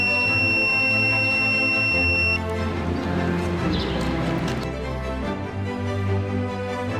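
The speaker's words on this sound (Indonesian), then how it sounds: "buzzer yang tadi dijelasin ini adalah alarm" A high electronic alarm buzzer on smart handcuffs sounds steadily for about two seconds, then cuts off, leaving rustling and handling noises.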